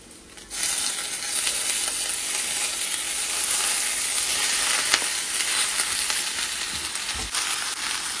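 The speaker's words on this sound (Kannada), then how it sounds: "ಇವಾಗ ಚೆನ್ನಾಗಿ ಇದು ಫ್ರೈ ಮಾಡ್ಕೊತಾ ಇದ್ದೀನಿ" Steamed vegetables sauté in a hot pan with a continuous loud sizzle and occasional stirring scrapes, with no voices.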